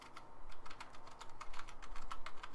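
Keys pressed one after another on a Saitek Cyborg Command Unit PC gaming keypad with standard non-mechanical keyboard switches, giving a quick, irregular run of soft, close clicks and taps.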